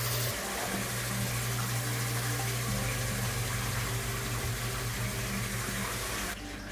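Water runs steadily into the reservoir of a Lyko hydroponic countertop grow system, a continuous close pouring and filling sound with a faint low hum beneath, stopping abruptly near the end.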